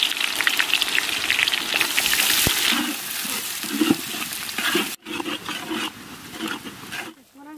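Chopped onions fry in hot mustard oil in a pot cooking for a village meal. A loud, dense, steady sizzle carries on with occasional stirring scrapes, then cuts off briefly and returns before fading at the end.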